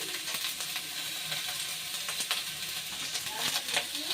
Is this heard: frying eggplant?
yes